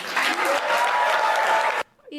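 An audience breaks into dense, sustained clapping with a voice audible through it, cutting off abruptly near the end.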